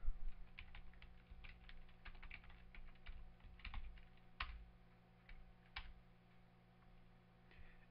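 Keys tapped on a computer keyboard while entering a name for a new particle system, quiet irregular clicks in short runs, close, with no talking.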